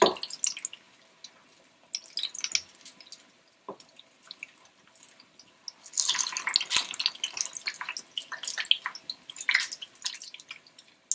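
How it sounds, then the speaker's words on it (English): Mixed vegetable pakora fritters frying in hot oil, a busy sputtering crackle that comes in bursts, quiet at first and then denser and louder, heard close with no talking. "And you fry for another few seconds."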